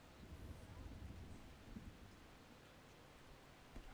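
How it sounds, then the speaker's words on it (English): Storm ambience in the video game Persona 5 Royal, with steady rain hissing and low rumbling thunder rolling underneath, fairly quiet and continuous, a faint thump near the end and no voices. "That nice storm ambiance."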